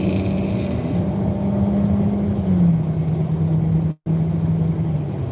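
A four-cylinder car engine drones loud and close in a sustained hum whose pitch shifts slightly as the car speeds up, with a brief sharp cutout near the end before the note resumes.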